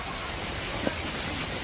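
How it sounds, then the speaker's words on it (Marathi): Heavy rain pours down steadily on a Konkan village, a dense, even hiss that fills the short stretch with no breaks and only one small tap standing out near the end. "जोरात पाऊस आलाय."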